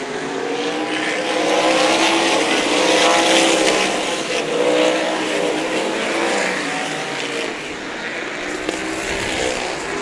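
Sprint cars roar around the oval at Meridian Speedway during the Diamond Cup, a loud, continuous engine drone with pitch rising and falling as cars pass, several machines overlapping on the straightaway.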